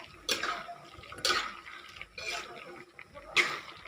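Papaya is stirred into bubbling coconut milk with sardines and small shrimp, four soft wet sloshing swirls spaced about a second apart, close and fairly quiet.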